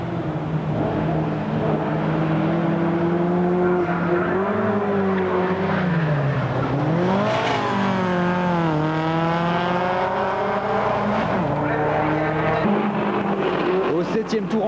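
Volkswagen Beetle race cars in the Super VW Cup, France, 1998, with engines revving and shifting up and down as they pass close by, under a commentator's continuous talk.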